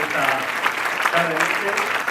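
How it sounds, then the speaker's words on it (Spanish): Steady applause from a live audience at an event about women's cycling, dense clapping sustained throughout with a murmur of voices mixed in. "un fuerte aplauso para María Cabañas"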